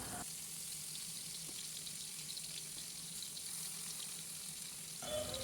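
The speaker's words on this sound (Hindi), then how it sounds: "इसको फ्राई होने देते हैं, 2 से 3 मिनट में फ्राई हो जाएगा।" Paneer frying in hot oil, a steady close sizzle with fine crackling that runs unbroken for about five seconds before cutting off abruptly.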